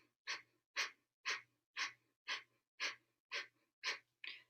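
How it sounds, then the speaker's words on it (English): Gentle Kundalini yoga breath of fire: nine evenly spaced, soft breath pulses through the nose, each a short airy push followed by a pause, close and quiet, with no talking. "gentle, rhythmic breath of fire."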